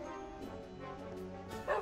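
A person imitates a dog in a TV drama scene, making a few soft yipping, whimpering bow-wow sounds in quick succession at close range and moderate volume, with no other talk.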